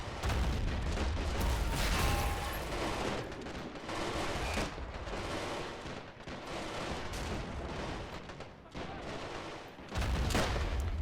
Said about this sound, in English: .25-pounders shelling the Italian infantry in the center